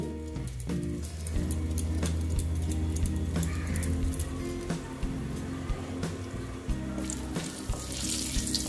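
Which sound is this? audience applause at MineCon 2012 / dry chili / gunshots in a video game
dry chili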